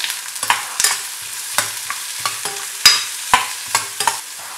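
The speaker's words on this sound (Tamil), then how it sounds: "அதில் வெங்காயம், பச்சை மிளகாய், பூண்டு, இஞ்சி, இதெல்லாம் போட்டு நல்லா வதக்கணும்" Chopped onion, green chili, garlic and ginger being sautéed in a pan for roadside-style masala puri: close, repeated spatula scrapes and stirs strike in an irregular rhythm over a soft, steady sizzle, with no talking.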